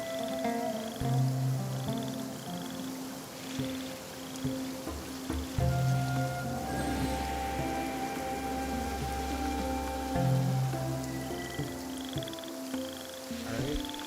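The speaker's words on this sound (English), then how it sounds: "I love listening to the rain from the courtyard" Soft rain falls steadily in a courtyard, a faint even patter with frogs croaking in repeated low calls and a high chirping creature in the background.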